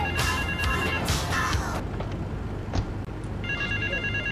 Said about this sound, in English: Hopefully I don't get arrested when I'm making my phone call